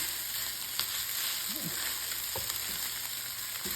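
Ham fried rice stir-fried in a hot pan: continuous loud sizzling with a few clinks and scrapes from stirring, close and steady, with no talking.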